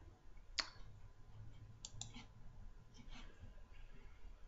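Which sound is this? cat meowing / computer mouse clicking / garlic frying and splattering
computer mouse clicking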